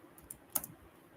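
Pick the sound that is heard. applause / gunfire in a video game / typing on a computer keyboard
typing on a computer keyboard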